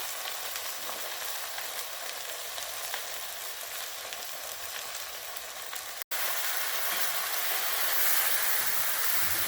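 A pork leg searing in a covered pot gives off a steady, loud, hissing sizzle that runs the whole time, broken by one brief dropout before it resumes slightly louder.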